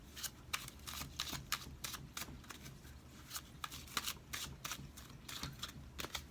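Tarot cards are shuffled repeatedly up close, a steady run of quick riffling and slapping bursts with no voices.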